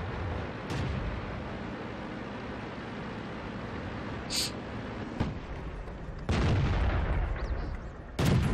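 Tank cannons fire in the online game World of Tanks during a low-tier British tank match. Several heavy booming shots go off at irregular intervals over a constant rumbling engine drone.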